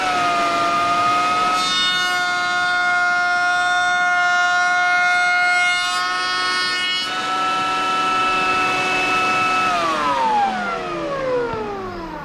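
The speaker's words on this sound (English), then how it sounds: "Let's turn on the router." A wood router runs through a 45-degree bevel cut on the end of a board held on a coping sled, giving a loud, steady high-pitched motor whine that winds down in pitch near the end.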